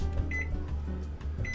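A microwave oven running on high with jumbo baked apples inside hums steadily and loudly, with two short electronic beeps sounding over the drone.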